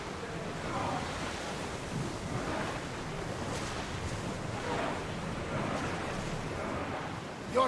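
Steady sea surf in Assassin's Creed Odyssey, waves washing and rolling in broad repeated swells with a windy hiss, continuous and fairly close, no talk.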